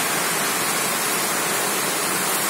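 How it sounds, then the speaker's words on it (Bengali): Heavy monsoon rain pours down steadily on a late-June morning, a dense, even hiss that fills the whole stretch with no break or other sound. "সকাল 10:30টার বৃষ্টি, 29শে জুন।"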